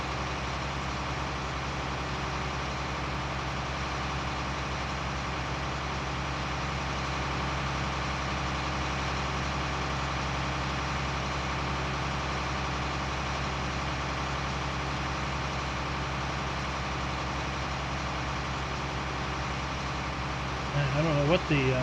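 A tractor engine idles steadily in Farming Simulator 19, a continuous low rumbling drone at constant loudness through the whole stretch, with a slight rise in level near the end.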